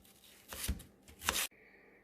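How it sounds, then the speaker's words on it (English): Two quick bursts of a knife chopping potatoes into small squares on a board, short and close, followed by near silence. "I'm done chopping my potatoes, cutting them in little squares"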